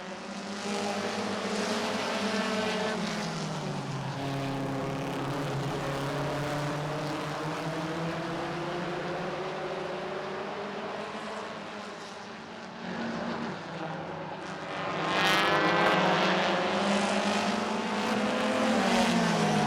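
Pure stock race cars roar around the oval at Barrie Speedway, a dense, sustained engine drone rising and falling as the pack passes, swelling louder near the end.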